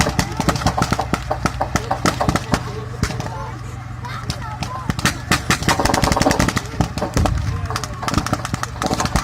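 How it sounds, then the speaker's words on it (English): Rapid gunfire and heavy bangs from an artillery barrage at a wartime battle reenactment, dense and loud bursts of shots and booms rolling continuously throughout, with a steady low rumble underneath. "it would appear as though the Germans are falling back under an artillery barrage"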